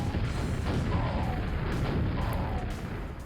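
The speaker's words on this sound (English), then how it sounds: "they do hurt if those rockets hit you" Rocket explosions from marine enemies in the Quake video game rumble as a dense, loud, continuous roar of blasts and debris with no talk, fading slightly at the end.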